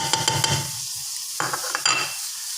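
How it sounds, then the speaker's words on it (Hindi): Tomatoes, onions and curry leaves fry in hot oil for a biryani, a loud close sizzle broken by a few sharp spoon scrapes and stirring knocks against the pot, with no voices. "इसको अच्छे तरीके से सबसे पहले भून लेना है हमने।"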